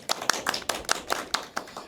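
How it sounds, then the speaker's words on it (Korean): Claps from a small audience at a Korean community media talk show, about eight separate hand claps in an uneven rhythm over two seconds, fairly close and moderately loud, with no voices. "박수 부탁드릴게요"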